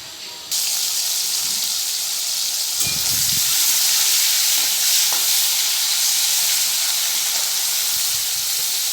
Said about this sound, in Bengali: চিংড়ি মাছের নুন হলুদ মাখানো হয়ে গেছে কড়াইতে তেল দিয়েছি ভেজে নেব